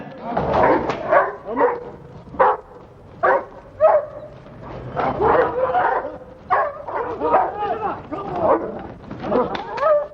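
A dog barks and yips repeatedly in bursts in a theatre in Adana, close by, with some whimpering between barks and voices talking underneath.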